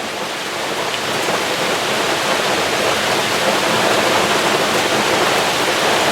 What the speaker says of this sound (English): Rain's really picking up.